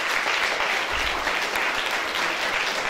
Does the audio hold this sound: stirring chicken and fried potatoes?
no